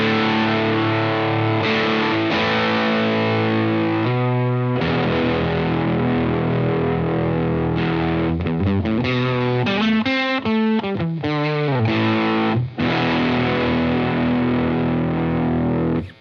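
Electric guitar through a Lytt Dead Bolt overdrive pedal pushed into fuzzy distortion, playing sustained loud chords and choppy strummed stabs near the middle, with a dense buzzing hiss throughout and no voices.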